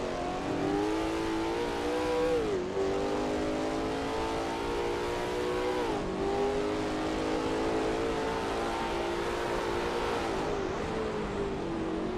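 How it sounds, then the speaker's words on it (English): A Lola T70 MkII Spyder race car in a racing video game at Brands Hatch GP, engine droning steadily with harmonic tones that rise and dip through gear changes and revs, loud and continuous. "That ASRL T70 MkII Spyder looks good driving through Cooper Strait."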